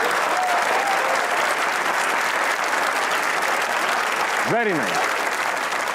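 Studio audience applauding on a Pakistani comedy talk show, a steady wash of clapping that fills the whole stretch, with a voice briefly speaking over it near the end.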